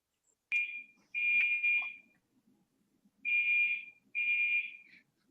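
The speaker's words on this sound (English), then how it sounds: "It's testing of our fire alarm in the office." An office fire alarm under test gives loud, piercing electronic tones in four separate beep bursts of about half a second to a second each, spaced by pauses, with faint background noise and no talk.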